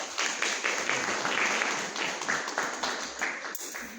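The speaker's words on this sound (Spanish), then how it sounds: "un fuerte aplauso, por favor." Audience applause at a spiritual training session, a dense, steady patter of many hands clapping at moderate distance that holds for the full length before thinning slightly near the end.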